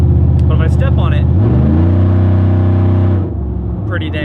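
A 2004 Chevy Silverado pickup engine with a stage 4 cam and long tube headers climbs to a loud, steady roar, then drops back as it eases off, with a voice talking over it at the start and end.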